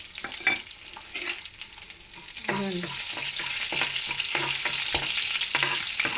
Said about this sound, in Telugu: ఇగో తాలింపులు వేస్తున్నాను.